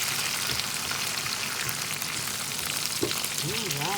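Mushrooms, snap peas, string beans, cherry tomatoes and garlic stir-frying in a pan, a steady dense sizzle with light stirring up close and a brief voice-like sound near the end.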